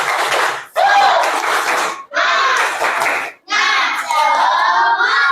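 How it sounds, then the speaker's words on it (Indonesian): A classroom of students in a religious education lesson does a patterned spirit clap, bursts of hand claps mixed with loud group chanting, broken by short pauses between sections. "Tepuk semangat!"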